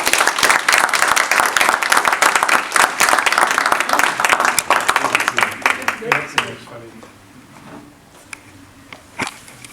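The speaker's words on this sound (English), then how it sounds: "We can give a round of applause" A room of attendees gives a round of applause at the end of a session, dense clapping for about six seconds that thins to scattered claps and quiet, with some voices underneath.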